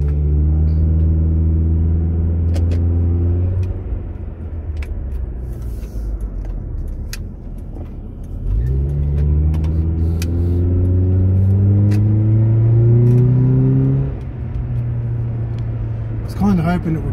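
A Honda Prelude fitted with a Megan Racing test pipe and full exhaust from the cat back, 2.5 or 2 3/4 inch into a Redback Mega Flow muffler, drones close by, its revs climbing, dropping at a gear change, then climbing again.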